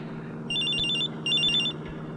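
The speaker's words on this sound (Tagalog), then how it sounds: "Ang cellphone ko." A cellphone rings in two short bursts of a bright, warbling electronic tone over a low steady room hum, with no one speaking.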